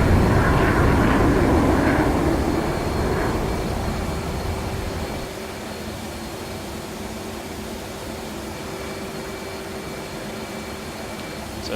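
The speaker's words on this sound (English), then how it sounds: "So now we go afterburner, 15 degrees up." An F/A-18 fighter jet engine on afterburner in a video game gives a loud, broad roar that fades to a steadier, lower drone and holds there.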